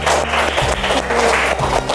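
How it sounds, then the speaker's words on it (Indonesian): A second-grade class of schoolchildren at SDN Blabak 3 in Kota Kediri claps together in a loud, dense, continuous round of applause close by. "Tepuk tangan untuk kita semuanya."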